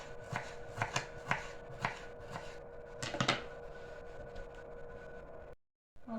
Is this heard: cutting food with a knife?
yes